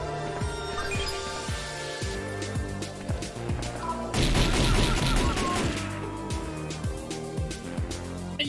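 Rapid gunfire in Resident Evil: Survive, a steady series of sharp, loud shots in rhythmic bursts, swelling into a denser volley midway before settling back into spaced shots.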